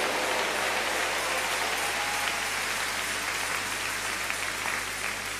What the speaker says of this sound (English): give the Lord a big round of applause